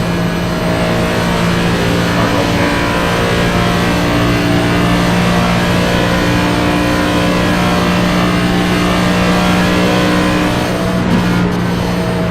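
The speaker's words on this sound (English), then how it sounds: "Race cars," NASCAR Cup Series race cars in the iRacing video game at Daytona drone steadily with a continuous engine roar, loud and unbroken throughout with no talk over it.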